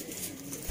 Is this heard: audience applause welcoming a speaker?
no